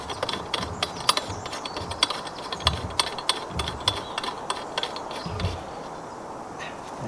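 Steel conduit coupler screwed by hand onto freshly cut thread, a series of faint metallic clicks and ratcheting scrapes at an irregular rhythm, close up with no talk.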